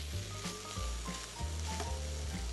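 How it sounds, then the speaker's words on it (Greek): Chicken gyro meat reheating in a frying pan gives a steady close sizzle, with faint scraping and stirring over a layer of background music. "Αφού αναθερμάνουμε το γύρο μας, θα χρειαστεί περίπου 2-3 λεπτά αυτή η διαδικασία στο τηγάνι"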